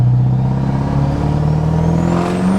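Twin-turbo manual-transmission truck doing a burnout with no traction, its engine droning loud and steady at high revs with a rising whine and tire roar, close and continuous with no talk.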